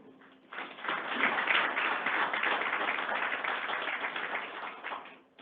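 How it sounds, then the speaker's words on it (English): An audience at a state transportation department employee recognition ceremony applauds, rising quickly into a steady wash of many hands clapping for about five seconds before tapering off, heard at a moderate distance indoors. "let's give all of our 30-year veterans another round of applause"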